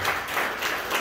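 A brief burst of applause from a church congregation, many hands clapping together for about a second, fairly close and steady, with no voices over it.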